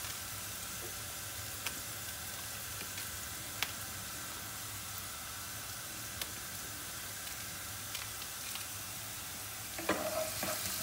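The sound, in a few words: onion frying in a pan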